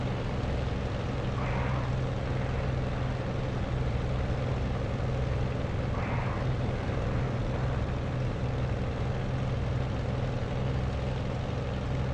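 A steady droning airplane engine hum in the flight game DCS, constant and even throughout, with faint brief tonal blips now and then.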